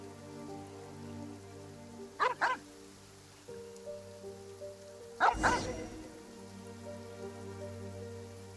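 Dogs barking at a cemetery in Genshin Impact, two short bursts of a couple of sharp barks each, separated by a pause, over a quiet humming game ambience.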